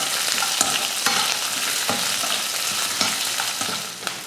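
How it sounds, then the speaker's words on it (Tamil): Onion, green chillies and curry leaves sizzle steadily in hot oil in a pan, a continuous close frying hiss broken by occasional scrapes and clinks of a stirring spoon, with no voices. "ஒரு பெரிய வெங்காயம், 3 பச்சை மிளகாய், கொஞ்சம் கருவேப்பிலை, இதெல்லாம் சேர்த்து நல்லா வதக்கிடலாம்"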